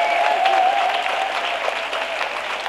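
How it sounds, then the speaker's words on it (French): A church congregation claps steadily and loudly in a continuous wash of applause, a faint tonal voice or hum threading underneath near the start. "Clap louder."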